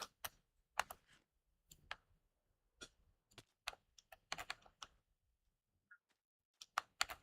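Laptop keyboard typing during a Minecraft session, irregular bursts of quiet clicky keystrokes with pauses between, close by and alone without speech.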